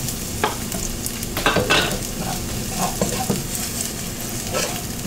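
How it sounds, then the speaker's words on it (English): Steady, loud sizzling of garlic frying in a hot pan, with occasional clinks and scrapes of stirring mixed in. "Hear that sizzle."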